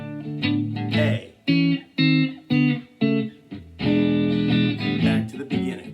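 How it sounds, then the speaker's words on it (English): Electric guitar playing the final four bars of a 12-bar blues in A, strummed chords in a choppy rhythm of short stabs, then a longer sustained ringing chord, close and clear with no talking. "Here are the last four measures of a 12-bar blues."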